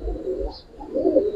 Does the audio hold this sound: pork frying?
no